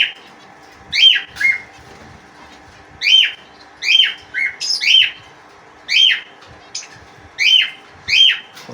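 Pigeons calling in a home pigeon loft: short, bright calls repeat roughly every second, fairly close and clear over quiet background hiss, with no talking.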